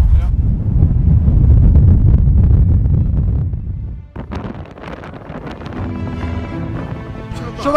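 Heavy storm wind in Rotterdam roars and buffets the microphone for several seconds, then eases into gusty rustling and knocking sounds with faint voices nearby.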